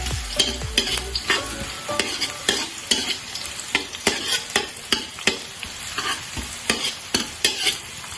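A spatula stir-fries an Indonesian dish in a pan over crackling oil, striking and scraping the pan in a brisk, regular rhythm of sharp clacks, close and loud, with no voices.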